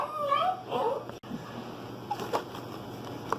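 A dog whimpers and yips in a home, its soft, high, wavering whines close by and moderately quiet over a faint background hum, followed by a few brief higher yips.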